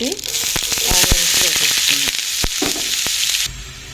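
Curry leaves dropped into hot oil in a pan burst into a loud, close sizzle with sharp spitting pops and crackles, then the sizzle cuts off abruptly near the end.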